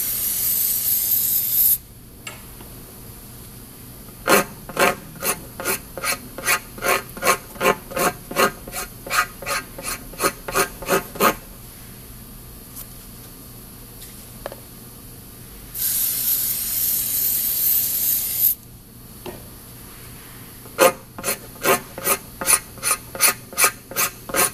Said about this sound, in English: apply rubber cleaner aerosol to the repair area on the interior of the tire